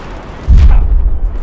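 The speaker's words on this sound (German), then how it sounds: "Und da kommt natürlich wieder eine Granate direkt neben mich geflogen." A grenade exploding close by in Battlefield 4, one sudden heavy boom with deep low rumble that rolls on and fades over about a second, loud and near, over a quieter background of game noise.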